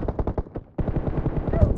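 Rapid bursts of gunfire in a shooting video game, with quick repeated shots, a brief gap, then a denser volley, loud and close.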